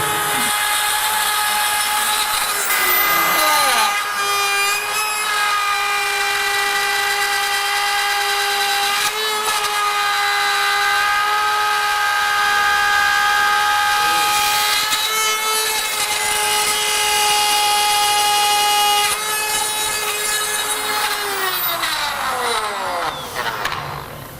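Power drill boring a hole near glass, a steady high-pitched whine held for about twenty seconds, rising as it spins up and winding down at the end, loud and continuous with no talk.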